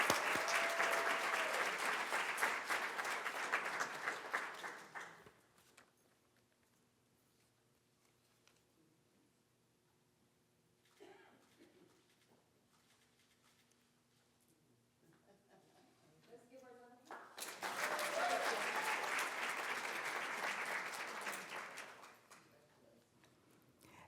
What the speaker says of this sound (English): Join me in applauding Tracy Crooks as our honoree this evening.